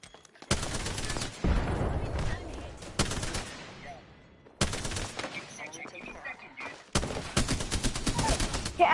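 A Spitfire light machine gun fires in the Apex Legends video game as three long, loud bursts of rapid automatic fire, separated by short quieter gaps.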